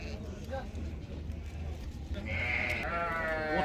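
Goats and sheep at a livestock market, with a drawn-out bleat rising over crowd chatter and nearby voices talking throughout.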